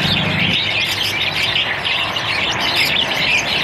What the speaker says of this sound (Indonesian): suara burung seperti ini itu sangat jarang sekali terdengar di daerah perkotaan